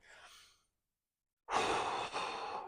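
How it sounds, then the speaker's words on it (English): One slow, deep inhale through the nose, soft and close, followed after a short silence by a long, fuller breathy exhale or sigh during a stretching session. "Take one big deep breath in."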